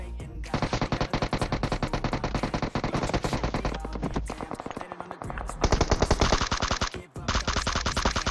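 Shotgun fire in a battle royale video game comes as loud, rapid, near-continuous bursts of gunshots with brief pauses between volleys.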